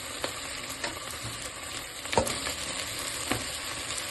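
Tomato goes into frying ginger and garlic paste for a home chicken biryani: a steady sizzle with several sharp utensil clinks and scrapes as it is stirred.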